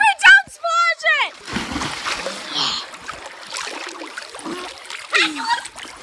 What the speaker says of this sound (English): Avery, don't splash it!